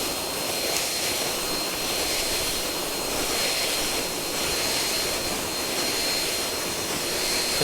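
A STIHL BGA 200 battery leaf blower clears very wet leaves from long grass outdoors, roaring in a steady, loud, continuous rush that swells slightly as it blows into the wind.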